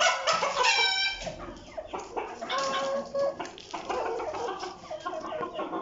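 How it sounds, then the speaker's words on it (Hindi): Two young male Cuckoo bantam roosters cluck and call nearby, with a run of loud, repeated clucks and brief crow-like notes, busy and overlapping, with no talk. "ये कुकू बैंटम के दो मेल हैं"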